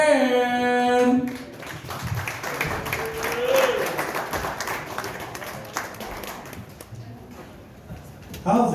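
A comedy club audience claps and cheers for a stand-up comic from San Angelo, Texas, taking the stage; a host's voice rises over the start, then steady applause carries on, with talk at the edges.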